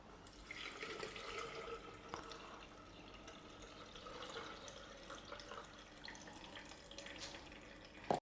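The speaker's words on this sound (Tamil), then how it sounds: "இப்போ இதுக்குள்ளே தண்ணி ஊற்றி காமிக்கிறேன்." Water is poured steadily into a water filter, a continuous splashing trickle of moderate, even loudness that runs throughout and ends with a brief sharp knock.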